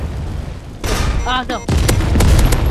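Gunfire bursts in the robot shooter game Assault Bots, sharp broadband cracks and rattling shots filling the second half, mixed with game effects while a player speaks briefly over it.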